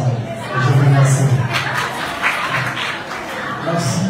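A debate audience claps together, mixed with crowd murmur and a voice or two, the applause swelling early then continuing unevenly.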